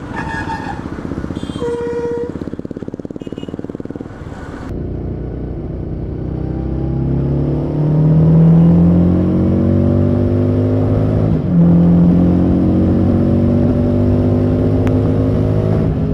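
A Harley-Davidson Street 750 motorcycle accelerates on a road ride, its exhaust rising through several rising gear pulls, loud and close, after a passing horn toot and engine idle at the start.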